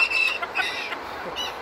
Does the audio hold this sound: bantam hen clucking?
yes